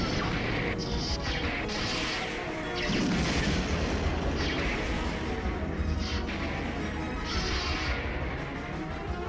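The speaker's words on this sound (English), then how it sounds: "There was a series of electrical flashes and explosions" Electrical flashes and explosions in an audio drama sound effect: a rapid series of loud crackling bursts, crashes and booms with sharp bright zaps, continuous and chaotic for several seconds.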